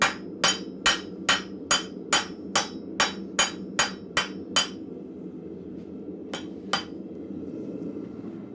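A hammer strikes a rivet head at a blacksmith forge, shaping it with about ten quick, evenly spaced, ringing metallic blows, then a pause and two more strikes over a low background hum.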